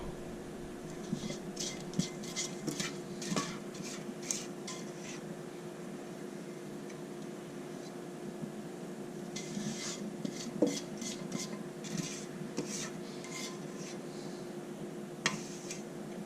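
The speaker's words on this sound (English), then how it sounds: "we're just going to rake the batter into it" Batter for brownies is raked and scraped into a greased 8x8 baking pan, making scattered light clinks and scrapes of utensil on pan over a steady faint background hum, with no talking.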